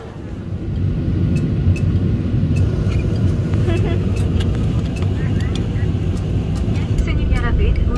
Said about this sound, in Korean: 승객 여러분, 우리 비행기는 이제 이륙하겠습니다.